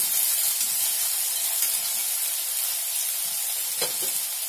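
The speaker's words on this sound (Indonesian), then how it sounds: "lanjut kita aduk kita aduk sampai matang ya" Stir-fried bean sprouts and tofu with spring onion sizzling in a pan, a bright continuous hiss with soft scraping stirs and a sharper utensil knock near the end, close and fairly loud.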